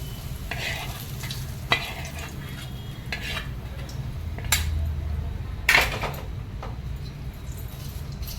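Food fries in a pan until reddish brown, a steady moderate sizzle punctuated by a few sharp metallic scrapes and knocks of a spatula against the pan.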